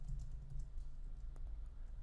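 Soft keystrokes on a computer keyboard tap out a short word in quick succession, faint and close, over a low steady background hum.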